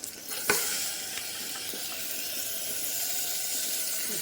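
Washed rice tipped into a hot pan for tomato bath gives a broad hissing sizzle, with a sharper burst early on that settles into a steady fry for the rest.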